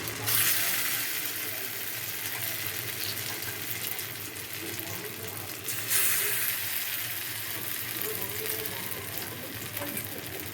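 Pumpkin leaf fritters (kumro pata bora) fry in oil with a steady, broad sizzle that stays loud throughout, briefly rising near the start and again around the middle, with no talk over it.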